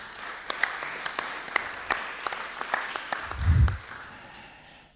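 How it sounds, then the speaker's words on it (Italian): Scattered applause from the audience at a round-table forum on work and disability, with sharp individual claps over a steady murmur and a brief low thump near the end, fading out. "Facciamo un applauso liberatorio"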